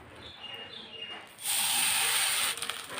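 Coconut and milk mixture for gokul pithe poured into a hot wok, bursting into a loud, close sizzling hiss that lasts about a second before fading back to quiet kitchen sounds.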